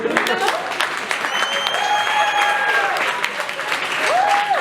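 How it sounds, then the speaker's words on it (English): A stand-up comedy crowd gives a round of applause, a continuous dense clatter of clapping filling the room, with whistle-like tones sliding above it. "Can I get a round of applause for that?"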